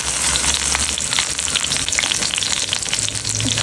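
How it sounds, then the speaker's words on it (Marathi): Curry leaves sizzle and crackle in hot oil, a loud close-up spatter with sharp pops scattered over a steady frying hiss, no talking. "तेल मी इथे तापत ठेवलं आहे मस्त छान असा कढीपत्ता टाकूया"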